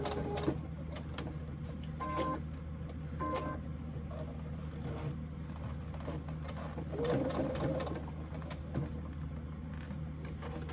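Sewing machine stitching a quarter-inch seam on pleated fabric, a quiet continuous mechanical whir with small clicks and handling noises, close but soft.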